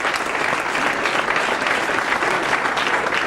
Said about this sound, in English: Let's give our first time guests a round of applause.